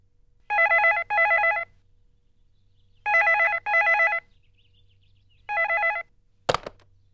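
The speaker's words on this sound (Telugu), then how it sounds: "ఫోన్" A telephone rings in three loud, clear double bursts with silent gaps between them, followed by a brief thunk at the end.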